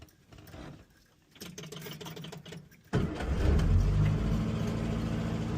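A Series 2 Morris Minor engine on positive earth ignition, just fitted with a new coil, cranks briefly and catches, then settles into a loud, steady close idle with no talking.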